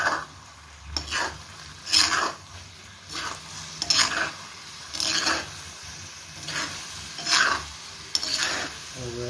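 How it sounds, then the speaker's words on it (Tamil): Chicken frying with a dry masala of ground chilli, coriander, pepper and cumin is stirred in a pan, with rhythmic scraping strokes about once a second over a continuous close sizzle and no voices. "ட்ரை மசாலா சிக்கனில் ஒரு 5 நிமிஷம் பிடிச்சி வேகணும்"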